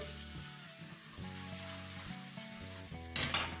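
Butter sizzling as it melts into hot caramel in a pan for a tarte Tatin, a steady close fry with a brief louder hiss flaring near the end, no talking.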